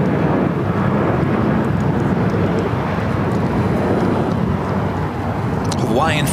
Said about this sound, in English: Sun Country, Flight 428, heading to Minneapolis